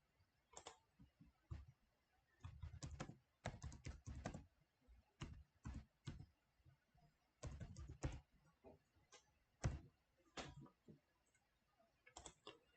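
Irregular bursts of keystrokes on a computer keyboard as admin credentials for a domain controller are entered, quick clusters of clicks separated by short pauses, close and fairly quiet with no talking.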